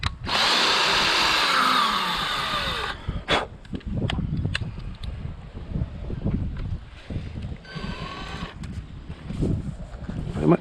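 Power drill driving a screw into the fiberglass body of a 2010 Jayco Expanda caravan during a rear camera install, a loud steady whine for the first three seconds, then scattered knocks and handling noise with brief talk.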